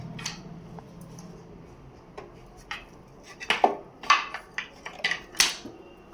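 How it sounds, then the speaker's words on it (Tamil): A kadai pan being set down on a stove burner while cooking a garlic relish: a few sharp metallic clanks and knocks, close and crisp against a quiet kitchen background. "இப்போ கடாயை அடுப்பில் வைக்கிறேன்."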